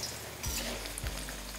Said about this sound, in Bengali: তেলটা ভালো করে গরম হয়ে গেলে আমি এখানে সর্বপ্রথম দিয়ে দিচ্ছি আলু।